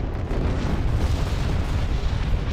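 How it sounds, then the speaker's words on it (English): Torpedoes exploding against the hull of a large capital ship in a space battle video game, producing a continuous, heavy roar of deep booming blasts that rumbles loudly without a break. "our torpedoes are starting to land on right now"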